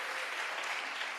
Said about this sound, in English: Give yourselves an applause for that.